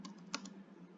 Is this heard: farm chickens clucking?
no